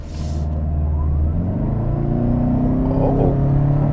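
A 2021 Toyota Camry XLE Hybrid launches hard from a brake-boosted stop, its engine note rising into a loud, steady, building drone heard from inside the car, with no voices.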